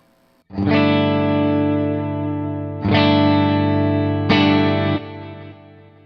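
Kemper guitar profile run through Legacy delay set to chorus with itself, three sustained distorted chords struck in turn, each ringing with shimmering doubled modulation and decay.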